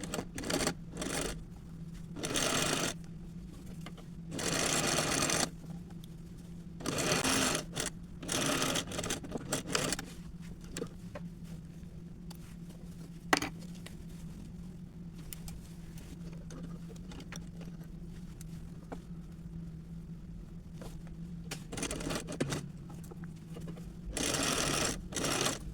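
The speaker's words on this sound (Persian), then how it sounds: "بعد این 2 درز رو چرخ میکنیم از سمت روی پارچه." A sewing machine stitches the side seams of a pillowcase with a standard stitch, running in repeated bursts of steady mechanical whirring separated by short pauses, close and fairly quiet, with no talking.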